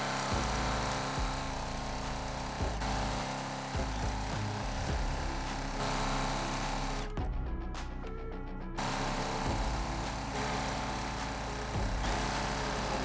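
A home sewing machine stitches a quilt in straight lines, a steady loud motor whir with rhythmic needle clatter that stops briefly for a couple of seconds midway, then resumes and runs to the end.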